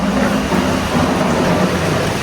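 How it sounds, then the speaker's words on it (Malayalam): Steady heavy rain pours down, a dense constant hiss with a low rumbling undertone and no voices. "മഴയുണ്ട് മഴയുണ്ട്"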